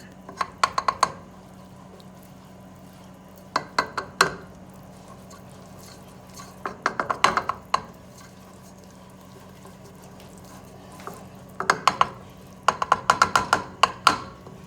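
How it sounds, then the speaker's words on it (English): Liquid being poured and stirred into a cream of mushroom soup mixture gives quiet clusters of wet clinks, taps and sloshes in short bursts separated by lulls, over a faint steady hum. "try to pour a little bit at a time and stir"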